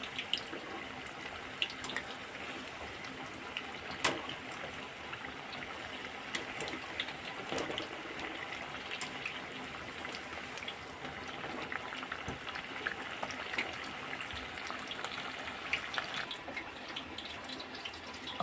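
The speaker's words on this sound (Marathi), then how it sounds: "एक बॅच तळायला आपल्याला दोन ते तीन मिनटं लागतात चांगलं असं तळून घ्यायचं" Cheese bread pakoras sizzle in hot deep-frying oil with a steady, soft bubbling hiss and occasional crackles, heard quietly and continuously.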